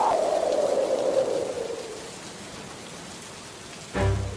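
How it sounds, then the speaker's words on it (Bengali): Cartoon storm of rain and hail: a steady broadband hiss of downpour, with a whistling wind tone that slides down and fades over the first two seconds, then a sudden low rumble near the end. "দেখেছো কেমন ঝড় হচ্ছে, সাথে শিলাবৃষ্টি"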